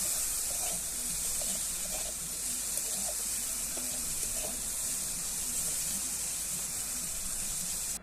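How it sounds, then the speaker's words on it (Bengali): Onions, potato, aubergine and green chilli fry in oil in a pan, giving a steady, even sizzling hiss throughout with a few faint soft clicks beneath it. "একটু নাড়িয়ে নিই ভালো করে, এর সাথে একটু ভাজা ভাজা করে নিই পেঁয়াজটাও"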